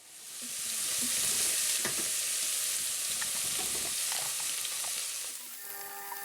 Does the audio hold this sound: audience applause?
no